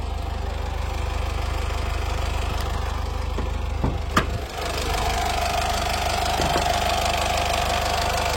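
A 2015 Honda City VX diesel with the i-DTEC engine idles in a steady low rumble, with a brief knock or clunk midway, heard close with the bonnet up.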